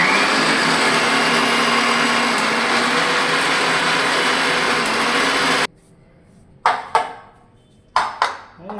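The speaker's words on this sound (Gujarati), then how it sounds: "ચાલુ કરીએ આપણે મિક્સર" A kitchen mixer grinder whirs loudly and steadily while grinding buttermilk masala spices, then cuts off abruptly, followed by a few short bursts of pulsed grinding.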